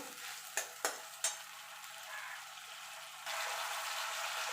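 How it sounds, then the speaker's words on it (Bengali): Ginger and green chilli fry in a pan with a steady, fairly quiet sizzle, broken early by a few sharp clinks of a spoon, then a louder hiss toward the end. "আদা কাঁচা লঙ্কা কাঁচা লঙ্কার কাঁচা গন্ধটা যাওয়া পর্যন্ত একটুখানি কষিয়ে নেব"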